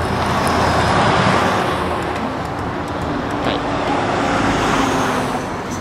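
Roadside traffic along Route 6: a loud, continuous roar of passing cars and trucks, steady throughout with no break.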